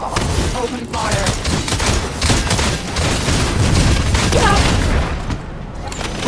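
Gunfire from a shooter video game, The First Descendant, rolls on in dense, continuous bursts with booming impacts. The volley is loud and up close, and voices are faintly mixed in beneath it.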